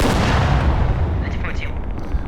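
Heavy booming tank gunfire in a game, with loud low rumbling blasts running continuously under a voice speaking.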